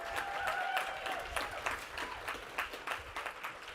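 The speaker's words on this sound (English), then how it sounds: "please give another round of applause to the winning teams of San Diego" Faint, uneven applause from the audience at a student challenge grand prize showcase in San Diego, with scattered distinct claps over a soft background and a brief voice early on.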